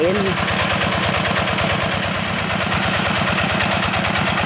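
A tractor engine idles close by at a fishing pond, a steady low rhythmic chugging that holds at an even level throughout.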